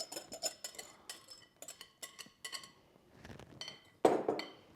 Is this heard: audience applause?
no